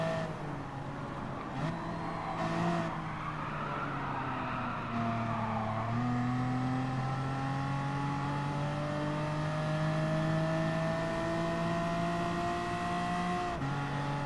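Race car engine in Gran Turismo Sport during a Clubman Cup amateur league race on PS4 Pro: a steady droning engine note rising through gears with brief shift dips, sustained and fairly faint, with no talk.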